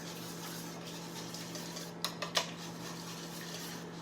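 A utensil clinks against a bowl while turkey roll-up filling is mixed, a few quick metallic taps clustered together in the middle of an otherwise quiet kitchen hum.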